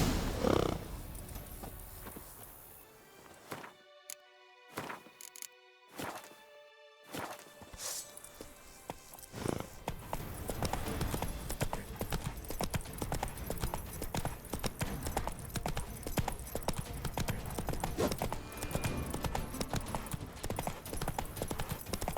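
Horse hooves clip-clop in a steady rhythm during a race in The Witcher 3, fading briefly, then returning as a dense, fast drumming gallop.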